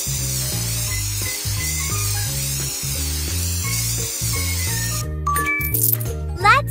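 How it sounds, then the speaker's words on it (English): Hair spray can in a pony hair salon kids' video game, a short hissing spray burst with sparkly chimes near the end, heard over a bouncy looping music track. "Shake it and spray it."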